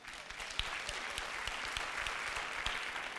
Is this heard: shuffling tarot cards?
no